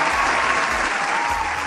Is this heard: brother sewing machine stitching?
no